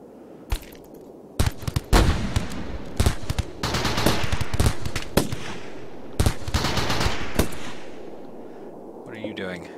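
Gunfire in the colony-building video game RimWorld, rapid cracking shots in irregular clusters and bursts like automatic fire, loud and close before fading out toward the end.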